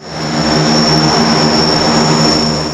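A propeller airplane arrives at an airport, its engine drone loud, close and steady throughout, with a high whine over the low roar and no speech.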